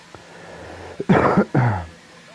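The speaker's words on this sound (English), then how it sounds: "Sorry about the cough lads" Two harsh, close coughs in quick succession, preceded by a couple of small throat sounds.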